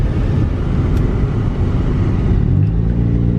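A $400 car with a four-speed automatic, driving on a farm, gives a loud, steady, low engine rumble and road drone heard close up from inside, with no talking.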